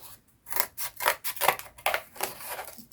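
Scissors snip steadily through a paper template, a quick series of close, crisp cuts and rasping slides with no voices.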